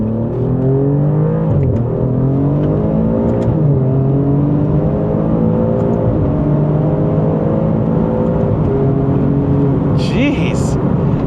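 An Alfa Romeo Giulia Quadrifoglio's turbocharged engine roars loud and close as it accelerates hard through the lower gears, its pitch climbing and dipping with each quick shift.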